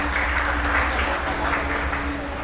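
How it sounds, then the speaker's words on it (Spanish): Church congregation applause fills a hall as a dense, steady wash of clapping with some faint voices mixed in, holding an even level throughout. "Un aplauso, hermanos."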